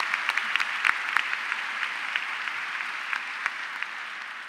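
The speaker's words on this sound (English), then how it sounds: "Please join me in applauding the teachers that have brought us to this point" High school graduation audience applauding the teachers, a steady wash of many hands clapping at moderate level with scattered sharper claps throughout, no talking.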